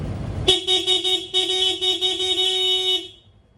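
A single loud, sustained horn blast from a Honda XRM 125 motorcycle close by, holding steady for about two and a half seconds before cutting off.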